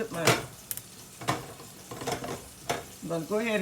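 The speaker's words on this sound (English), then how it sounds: "I'm going to be frying up this cabbage, just like so" Chopped cabbage sizzles and fries in a pan with bacon as it is stirred, steady crackling frying noise with periodic scraping clanks of a utensil against the pan, and a voice briefly speaking toward the end.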